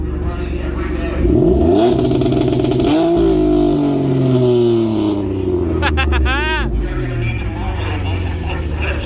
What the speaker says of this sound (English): We're gonna program the two-step on Lee's car so he's ready, get more consistent.